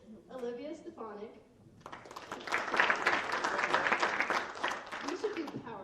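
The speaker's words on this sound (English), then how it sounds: "We should do power claps, guys, to get this through quick." An audience claps at a high school FFA banquet, a dense burst of applause rising after a short spoken moment and continuing steadily, moderately loud in a hall, with voices faintly mixed in.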